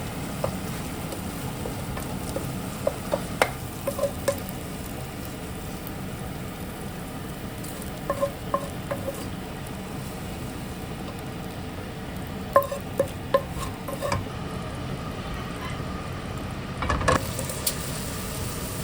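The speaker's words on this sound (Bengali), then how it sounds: "প্রথমে আমি 2টা ডিমকে একটু ব্ল্যাক পেপার আর একটু লবণ দিয়ে ভেজে নিচ্ছি" Two eggs seasoned with black pepper and salt frying in a pan, a steady low crackle with a few sharper scrapes and clicks of a utensil scattered through, fairly close and without any talk.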